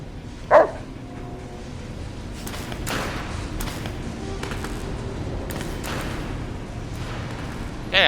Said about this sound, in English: Did we just get a robot dog?